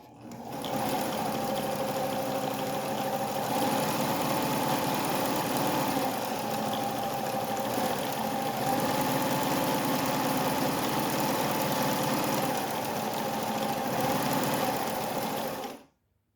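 A vintage White Model 764 'Fair Lady' New York World's Fair sewing machine runs a zigzag stitch in one steady, loud mechanical whir that lasts about fifteen seconds before it stops abruptly.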